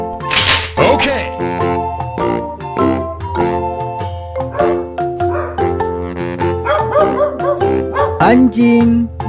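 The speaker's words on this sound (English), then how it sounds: "Anjing, dog." A toy animal's recorded dog bark plays among a run of educational animal-toy sounds, with repeated short bark-like bursts over a busy electronic sound pattern, loud and close.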